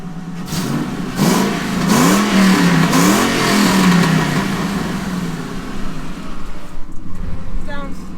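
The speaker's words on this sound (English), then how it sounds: "he's gonna rev the car on a cold engine" A Ford Mustang (New Edge) engine, started cold, revs up loudly several times, rising and falling in pitch, then settles into a steady rumbling idle.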